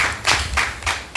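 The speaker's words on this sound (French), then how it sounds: "Est-ce qu'on peut applaudir pour Madame Daoui, s'il vous plaît?" Audience applause in a French television magazine studio, a few loud separate bursts of clapping in quick succession, close and without talk.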